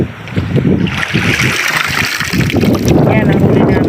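Strong waves slosh and rush against a small boat on a tilapia fishing trip, a loud, continuous churning of water close by, with voices talking over it.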